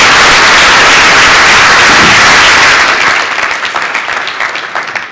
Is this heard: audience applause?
yes